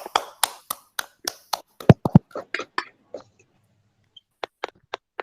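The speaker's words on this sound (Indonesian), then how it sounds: "kita berikan aplaus untuk semuanya" A small audience claps for student presenters at an Indonesian class session, with sharp, distinct hand claps in an uneven rhythm that thin out, pause, then return as a few scattered claps.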